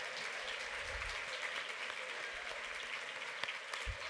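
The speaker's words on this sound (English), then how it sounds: "And a big round of applause, and thank you so much for all those contributions." An awards-ceremony audience gives a dense, continuous round of applause that stays even and fairly faint throughout, heard from a distance with no voices on top.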